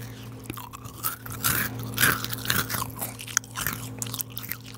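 Crunchy biting and chewing of a crispy homemade cookie, close and fairly loud, with repeated crisp bites and mouth noises running steadily over several seconds, no talking.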